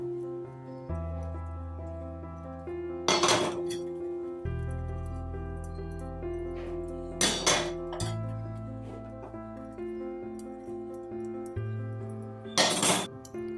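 Metal idiyappam (noolputtu) steamer plates clink and clatter as they are greased with coconut oil, with three louder sharp metallic clanks standing out over sustained background music.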